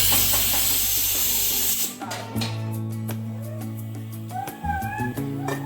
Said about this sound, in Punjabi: ਤੜਕਾ ਤਿਆਰ ਹੋ ਰਿਹਾ ਇਹ ਦੋਸਤੋ ਹੈ